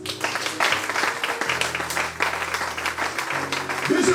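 A church congregation applauding during a sermon, a dense wash of clapping from many hands filling the room steadily, with a loud sustained tone and voices mixed in.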